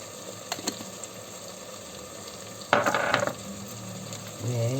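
A pea stew with red pepper flakes is stirred in a pan. A low sizzle runs under scattered scrapes and clinks, with one louder clattering burst of stirring midway and a brief bubbling at the end.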